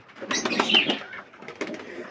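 Pigeons at morning feeding time in a small home loft give a brief burst of close cooing and wing flapping that fades, then returns more softly.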